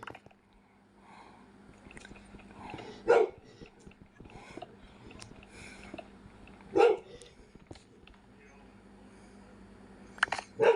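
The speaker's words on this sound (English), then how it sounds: "Got the dog going off in the background." A dog barks in the background of an indoor room, three short loud bursts spaced several seconds apart, with faint clicks and rustling between them.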